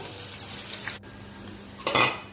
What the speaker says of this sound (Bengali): এবার পেঁয়াজ আর গরম মশলা দিয়ে একটু মশলাটাকে ভাজা ভাজা করে নিচ্ছি